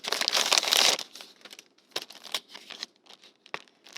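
Vellum and acetate stickers crinkle as they are handled, a dense burst of close crinkling at first, then scattered soft crackles and small rustles.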